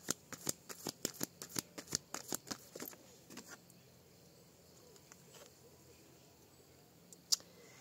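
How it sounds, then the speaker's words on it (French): A deck of playing cards riffled and shuffled in a quick burst of crisp flutters, then a few softer card handling sounds, close and alone with no talking. "Allez, on fait sauter les cartes."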